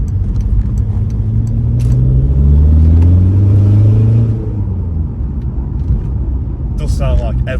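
A loud diesel Skoda Fabia engine rumbles close by and revs up then settles, a deep throbbing drone that swells mid-clip before easing back to idle, with faint clicks at the end.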